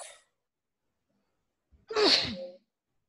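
A single loud sneeze rings out close by after a moment of near silence, with a short breathy intake just before it.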